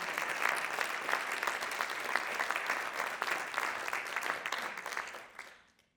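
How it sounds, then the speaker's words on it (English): Audience applause at an evening talk given by Michael Kirby in Australia: a dense, steady wash of many hands clapping for about five seconds, then fading quickly into quiet. "I think that deserves a big round of applause."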